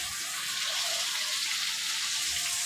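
Vegetables and paneer for fried rice frying in a wok on a home stove give a loud, constant hiss and sizzle, close and unbroken for the whole stretch.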